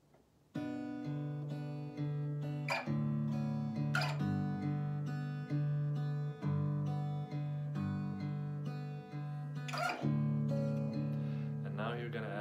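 Slow fingerstyle acoustic guitar in standard tuning picks a chord pattern, with steady plucked notes and a few brighter strums ringing close and clear, with no voices.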